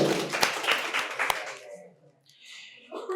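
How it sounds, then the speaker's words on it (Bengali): An audience at a quiz competition at Santiniketan Medical College and Hospital bursts into loud clapping for about a second and a half, which then fades quickly, leaving quieter room sounds and voices. "জোরে হাততালি"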